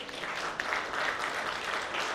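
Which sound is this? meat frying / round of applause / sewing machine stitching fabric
round of applause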